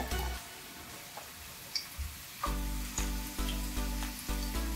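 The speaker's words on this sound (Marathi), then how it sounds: "आता हाय फ्लेम वरती आपण त्यामध्ये एक छोटा बारीक चिरलेला कांदा" Finely chopped onion sizzling in two tablespoons of hot oil in a pan over high flame, a soft steady hiss with a regular series of low thumps or taps, quiet and close.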